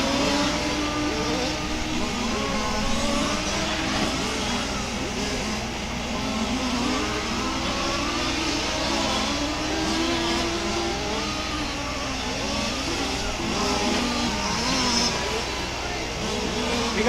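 Race car engines howl and rev during a RAMS race at Warm Springs, a continuous mid-distance roar with rising and falling engine pitch, heard under steady commentary talk.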